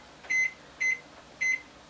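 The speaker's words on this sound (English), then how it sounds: "I'll just set my timer here for 15 minutes" A kitchen timer beeps three times in even, evenly spaced bursts, set while a pan of macaroni for macaroni cheese comes back to the boil; the beeps are clear and close with no talking.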